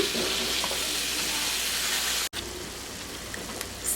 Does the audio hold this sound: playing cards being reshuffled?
no